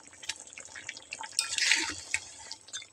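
Kewra water is splashed into a simmering chicken malai korma, a soft liquid pour with drips and a brief louder gush midway, close and without talk.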